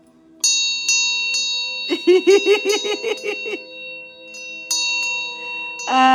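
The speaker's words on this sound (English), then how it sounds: "Let's get some bells." Bright bells ring out, a single strike followed by a quick flurry of rapid chimes, then a few more isolated rings with long, shimmering decay.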